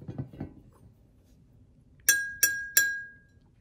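Three clear clinks on water-filled drinking glasses ring out in quick succession, each leaving a sustained bell-like tone, after some soft movement noises.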